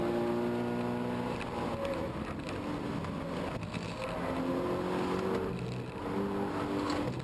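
A 2013 Subaru BRZ driven fast on a track, its engine droning steadily with rising and falling pitch as it accelerates through gears, heard from inside the car, continuous and loud with no speech.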